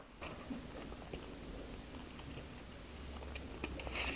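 Quiet, close chewing of convenience store cream bread, with soft moist bites and light crunchy ticks, ending in a louder burst.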